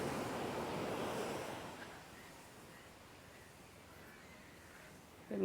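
Rough sea waves break on the beach at Maruthamunai, a loud rushing surf at first that fades to a low steady wash with wind noise across the microphone.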